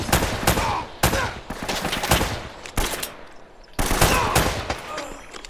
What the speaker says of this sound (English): So firing from the hip gets you points as well for different things in the game.